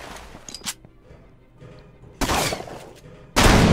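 Loud bursts of gunfire from the Roblox game Arsenal, two sharp broadband volleys standing out over faint background game noise, the second burst louder and closer.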